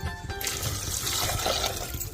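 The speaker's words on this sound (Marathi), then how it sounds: "आता 1 तांब्या पाणी शिजायला टाकीते." A tambya of water poured into a pot of cluster beans (gavar) to cook: a close, continuous splashing pour lasting about two seconds, with no speech.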